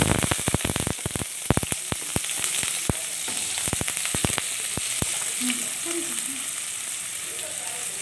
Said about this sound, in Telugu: ఆయిల్ హీట్ అయిపోయింది ఫస్ట్ అయితే ఆనియన్స్ వేసేసుకోండి